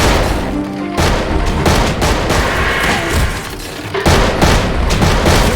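Loud, continuous video-game gunfire and booming volleys from a 3v3 battle game erupt in dense bursts, with sharp cuts between salvos and no talking.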